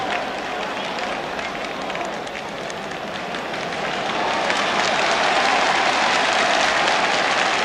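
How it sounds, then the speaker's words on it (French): A stadium crowd at a 1961 France–Spain friendly football match applauds the French captain and defensive leader, a dense, steady roar of clapping and cheering that swells louder toward the end, heard under commentary. "Ces applaudissements que vous entendez vont à l'adresse du capitaine et chef de la défense française André Leron"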